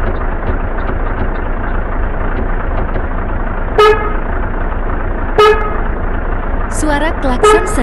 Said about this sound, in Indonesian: Suara klakson setir.